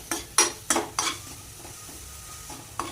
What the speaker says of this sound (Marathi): आले लसूणचं कच्चेपणा जाईपर्यंत आपण याला छान असं हलवून घेऊया।